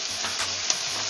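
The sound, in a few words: tomato added to frying onions and stirred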